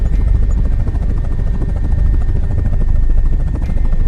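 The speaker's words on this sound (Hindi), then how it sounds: "18 जून को पहली बार सेना का एक हेलीकॉप्टर हवाई सर्वे करने के लिए आया" An army helicopter flies over the Kedarnath valley on an aerial survey after the 2013 disaster, its loud, steady rotor drone filling the air without a break, with no one talking.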